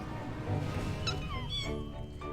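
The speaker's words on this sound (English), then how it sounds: "we got kitties. And they got little hats on." Cartoon kittens wearing little hats meow in a video game, a few short rising and falling meows over steady background game music, with no talk.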